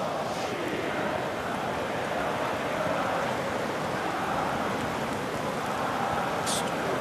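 Heavy rain pours onto a football stadium during a Norwegian Eliteserien match in Bergen, a constant broadband hiss at moderate level that stays unbroken for the whole stretch.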